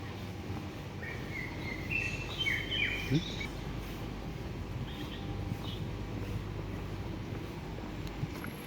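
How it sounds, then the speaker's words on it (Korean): Birds singing on a university campus with park-like grounds and a lake, bright chirps and short trills scattered over a few seconds against steady wind and background murmur, moderately distant. "대학 안에서 뭐 새소리가 엄청 들리네"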